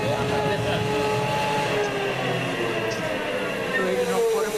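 A small train carries riders through a salt mine, a steady loud rumble with squealing metal-on-rail whines that drift in pitch, and voices talking faintly beneath it.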